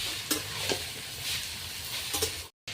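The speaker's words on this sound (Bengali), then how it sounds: "ইঁচড়গুলিকে ভাজা করে নিলে খুব ভালো হয়, রেসিপিটা খুব ভালো হয়, তাই ভালো করে ভেজে নিতে হবে আপনাদের।" Raw jackfruit pieces frying in a pan, with a steady soft sizzle and occasional scraping stirs of a spatula, moderately quiet and unbroken by speech, ending in a brief dropout.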